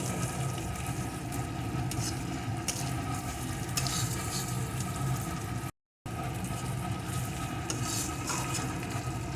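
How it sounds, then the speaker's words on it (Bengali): Ginger and garlic sizzle steadily in a pan for a pointed gourd (potol) dish, with occasional stirring scrapes and utensil clinks, close and continuous apart from a brief gap. "এখন আদা রসুনটাও আর একটু ভেজে নেব"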